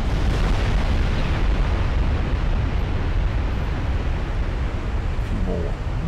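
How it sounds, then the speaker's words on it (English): A warship blowing up under heavy gunfire in a naval combat video game, heard as a continuous loud roaring blast that rumbles steadily throughout with no pauses. "A few more massive hits. And she explodes."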